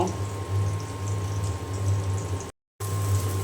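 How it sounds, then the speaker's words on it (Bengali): Vegetable bhaji fries in a pan with a continuous bubbling sizzle and a low steady hum. The sound cuts out briefly before resuming. "এখন আমি খুব ভালো করে ভেজে নেব"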